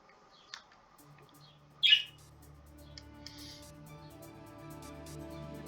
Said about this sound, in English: Reacting to the birds outside